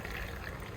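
Water mixed with fungicide is poured into a freshly repotted anthurium plant, a faint, brief trickle and splash close by.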